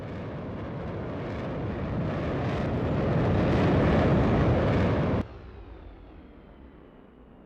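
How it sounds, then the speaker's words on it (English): US Navy F/A-18 Hornet jets fly over at an airshow, a loud broadband jet roar that swells as they approach and peaks around the pass before dropping off abruptly to a fainter rumble. "from the rear, we have the United States Navy FA-18"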